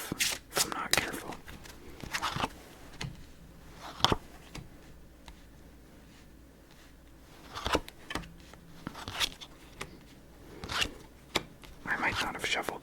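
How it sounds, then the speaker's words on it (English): Several bursts of riffled playing cards, short crisp flutters spaced a few seconds apart, with quiet rustling and a soft voice in between, while playing FreeCell solitaire. "I might not have shuffled thoroughly enough."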